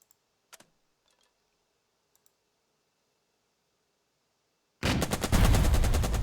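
Gunfire in the tactical war game Burden of Command: a few faint mouse clicks in near silence, then a sudden loud burst of rapid, rattling gunshots that continues to the end.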